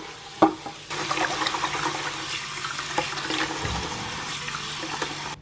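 Water runs and splashes as uncooked rice is washed in a bowl. A short knock comes first, then a steady stream of rinsing and sloshing continues at close range, with no voices.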